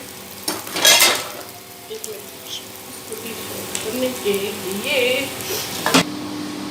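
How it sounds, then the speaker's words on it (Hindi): Cooked chicken macaroni being scooped out of a pan with the heat off, scraping and clinking of a spoon against the metal with some residual sizzle, close by, with faint speech in the background. "अब हम इसको डिश आउट करने लगे हैं।"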